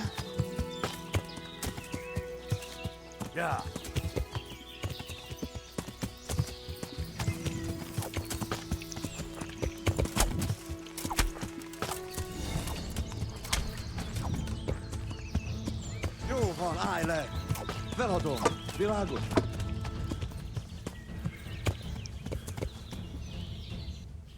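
Hooves clip-clop at a run over a busy Kingdom Come game soundscape, with a horse whinnying partway through and voices and music mixed underneath.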